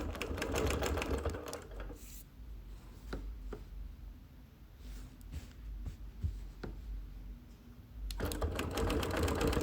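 Sewing machine quilting a Nearly Insane sampler quilt, stitching in the ditch and around a patch: a steady mechanical whir that runs loud at the start and end, easing to a softer, ticking stretch in the middle.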